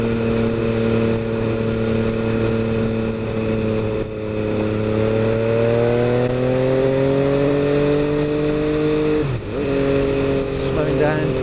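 An MV Agusta F3 800 motorcycle engine riding through bends, a loud sustained drone that rises steadily in pitch and then dips sharply with a gear change, with talk over it.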